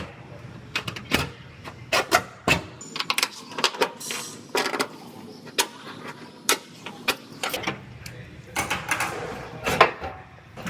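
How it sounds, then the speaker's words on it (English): Scribing a new dogleg panel piece on Kia bodywork produces a run of sharp scratching and tapping strokes, irregular and close, some bursts louder than others, with no talking over them. "I'm going to go ahead and I'm going to scribe this at both sides"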